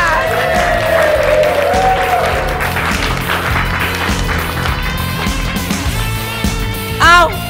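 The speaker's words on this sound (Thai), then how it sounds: "ปรบมือค่ะ" Sustained clapping from a crowd celebrating a competition win, dense and steady, with voices and some cheering mixed in underneath.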